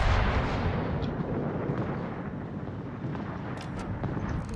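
Heavy battleship gunfire in the naval combat game World of Warships, a dense, booming rumble that rolls on steadily for several seconds with no speech over it.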